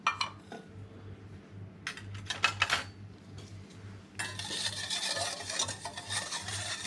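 Utensil scraping and clinking in a bowl as salt is stirred into eggs for sablé pastry dough, a few sharp metallic taps, then a steadier scraping swirl in the latter half.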